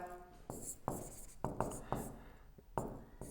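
Marker or chalk strokes on a classroom board, a series of sharp scratchy strokes with short pauses between them, close and fairly quiet.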